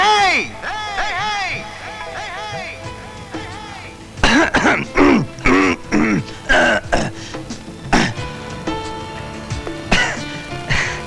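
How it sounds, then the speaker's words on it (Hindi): A man coughs and clears his throat in a string of harsh, loud rasps, with hummed vocal sounds before and a few short voiced bursts; close and prominent. "गला साफ कर रहा था।"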